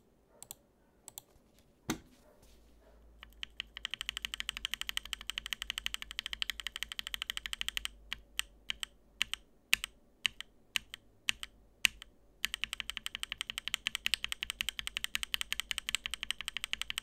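Typing on a mechanical keyboard fitted with lubed Gateron Oil King switches and Drewkey switch films: close, crisp keystrokes in quick irregular bursts with short pauses, and no voices.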